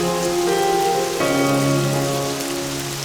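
Steady rain falls on a surface, a dense, even hiss that continues without pause and is heard alone.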